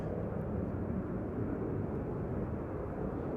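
Finnair airliner departing Manchester Airport in the evening, heard as a steady low jet roar that holds level throughout with no voices.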